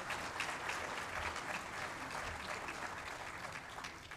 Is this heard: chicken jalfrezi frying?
no